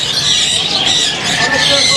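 Budgerigars at a Sunday exotic bird and animal market squawk and chirp densely and continuously, with someone speaking over the flock.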